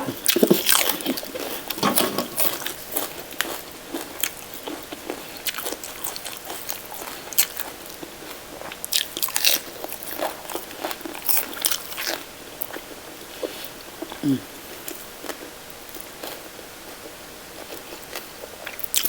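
Someone chews Thai Isan-style beef lime koi salad close to the mic, a steady run of wet crunchy bites and smacking chews spread over about twenty seconds, with no talk over it.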